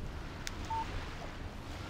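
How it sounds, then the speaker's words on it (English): A short electronic tone from a phone in Alan Wake Remastered signals an incoming text message, a single faint beep over a quiet, windy outdoor ambience. "Text message from Barry"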